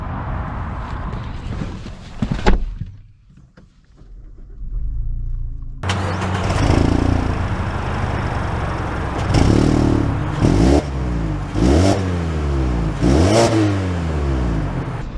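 A 2022 Mazda 3 hatchback with front-wheel drive starts up after a brief pause, then its engine revs several times in rising and falling sweeps, loud and close, with no talking.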